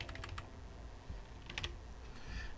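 Keys on a computer keyboard are tapped while a name is typed into a Microsoft Word document, a quick cluster of close clicks, a short pause, then a few more light taps over a low room hum.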